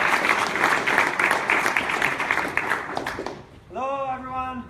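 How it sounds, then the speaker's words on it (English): Audience applause at a tech talk, a loud even burst of clapping lasting a few seconds before fading as a speaker begins talking. "An applause."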